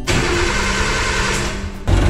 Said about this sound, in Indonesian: jadi kita nyalakan mesinnya terlebih dahulu